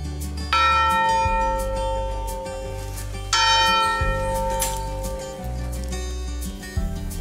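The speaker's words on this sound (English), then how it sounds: "You guys have definitely earned the right to ring this bell." A bell in a newly built bell tower rings out in three loud strikes a few seconds apart, each clang ringing on and slowly fading, with no voices.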